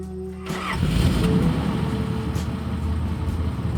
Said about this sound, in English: People say, is that a V8? It does sound like a V8.